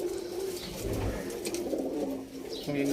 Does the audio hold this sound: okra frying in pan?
no